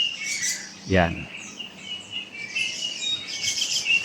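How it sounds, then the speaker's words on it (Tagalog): Birds sing in a flowering tree, with bright chirps and calls throughout, some close and some farther off, and a voice speaking briefly near the start. "marami ang naguhuning mga ibon"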